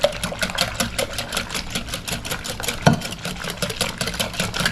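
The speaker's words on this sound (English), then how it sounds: "And we're going to whisk it together." Eggs, sugar, flour and a dash of salt whisked together in a bowl for banana cream pie pudding, a fast rhythmic whirring and rattling beat, close and steady throughout.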